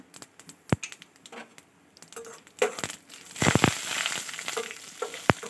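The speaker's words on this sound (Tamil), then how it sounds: "முதல்ல கடுகு போட்டுருங்க அதுக்கப்புறம் உளுத்தம்பருப்பு அதுக்கப்புறம் சோம்பு போட்டுருங்க" Mustard seeds, urad dal and fennel seeds crackle and sputter in hot oil, scattered sharp pops and a building sizzle up close, with a few clinks of a spoon against the pan.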